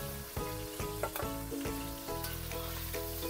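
Pork chops for pork steak (bistig babi) sizzle in hot oil in a wok, a steady close crackle broken by a few clattering bumps from turning or moving the meat.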